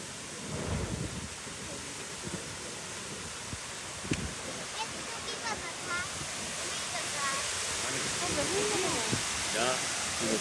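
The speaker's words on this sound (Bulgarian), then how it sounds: "Много хубаво това водопадче, бе." A small natural waterfall in a park gives a steady, broad rushing wash throughout, while people chat over it and birds chirp faintly in the background.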